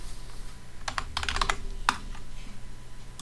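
Short password typed on a computer keyboard during a Kali Linux install in VirtualBox: a quick cluster of crisp key clicks over about a second, then a single final keystroke, close up over a steady low room hum.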